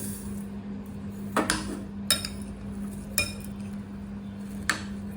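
Chana chaat tossed with fried peanuts and karapusa in a bowl, giving a few sharp spoon-on-bowl clinks spaced over a few seconds against a steady low hum, with no talking.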